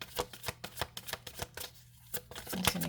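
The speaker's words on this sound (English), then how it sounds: "I'm just going to keep shuffling." A deck of Romantic Tarot cards is shuffled close up in a quiet room, a steady run of crisp riffling slaps about every third of a second, with a brief pause and a softer rustle at the end.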